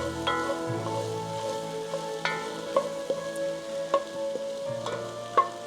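Spices with vegetables, garlic and ginger sizzle steadily in a pan for sweet potato soup, a constant close frying hiss broken by light clinks and taps of a utensil stirring.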